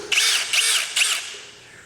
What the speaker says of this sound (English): I'm using this to drill a hole in the wood